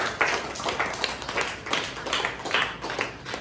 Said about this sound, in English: Miss Deepika, please give her big round of applause